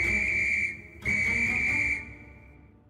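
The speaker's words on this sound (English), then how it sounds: "The guard blew his whistle till he had no more breath" A train guard's whistle shrills in two long, loud, steady blasts, the first breaking off briefly before the second sounds and then fades away.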